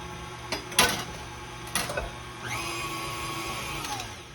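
An electric mixer runs through cake batter as the last of the flour goes in for an old-school coconut cake, a steady close whir with a few louder knocks and clatters early on and no talking.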